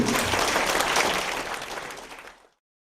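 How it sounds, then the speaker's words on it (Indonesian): An audience at a Buddhist dhamma talk claps for two speakers, a dense burst of applause that holds for about two seconds and then thins out and stops. "tepuk tangan untuk Putri dan Pak Jim"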